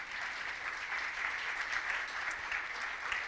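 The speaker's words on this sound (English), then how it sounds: "So give yourselves a round of applause." Audience applause at a student news awards ceremony, dense even clapping from a sizable crowd sustained throughout, moderately distant with no voices over it.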